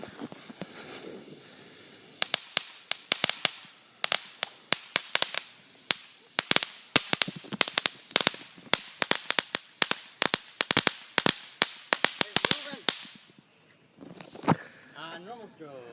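Crackle strobe and normal strobe fireworks pop in a rapid, irregular string of sharp cracks for about ten seconds at moderate distance, with people talking before and after.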